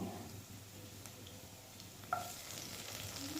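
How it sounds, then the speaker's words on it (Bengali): Dried fish frying in a pan gives a faint, steady sizzle, with one brief clink of a utensil partway through. "আমি 2 মিনিটের মতো ভেজে নিব।"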